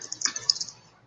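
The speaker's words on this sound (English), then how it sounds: "why am I typing and talking at the same time?" A short burst of typing on a computer keyboard during a live stream, several quick close clicks over about half a second before fading out.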